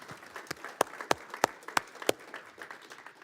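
Scattered applause from a small audience in a meeting room, a handful of distinct loud claps standing out over softer clapping, fading toward the end.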